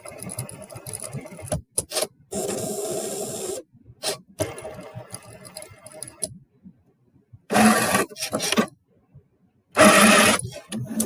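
A Cricut machine cutting a card shape sends out bursts of loud motor whirring that start and stop abruptly, separated by silent pauses, close up with no speech.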